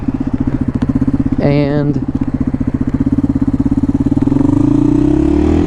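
A 1993 Yamaha XT225 single-cylinder 223cc motorcycle runs off road with a steady, close thumping engine note that rises toward the end, while someone talks over it.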